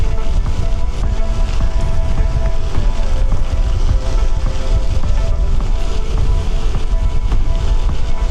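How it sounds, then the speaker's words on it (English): Strong wind roars continuously past the microphone on a rail trail, a loud, steady buffeting rush with no let-up and no voice audible over it. "it's a real strong wind when you can hardly even hear yourself speak"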